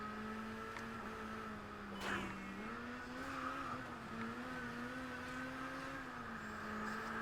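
A car engine drones steadily while driving in the racing game Test Drive Unlimited Platinum, its pitch rising and dipping with the throttle. A brief whoosh or impact breaks in early, and the sound stays quiet and even throughout.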